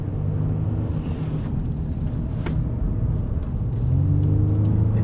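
A 2023 Honda Pilot drives at speed, heard from inside the cabin as a steady low road rumble and tire whir that swells slightly toward the end, with no talking.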